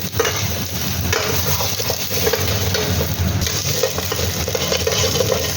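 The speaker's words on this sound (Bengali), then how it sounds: "এর মধ্যে আমি দেব গাজর কুচি, পেঁপে কুচি আর আলু টুকরোগুলো দিয়ে ভালোভাবে এটাকে আমি একটুখানি ফ্রাই করব" Carrot, papaya and potato pieces fry in a pan for a chicken stew, giving a steady close sizzle throughout with scraping stirring sounds and small clinks, no voices.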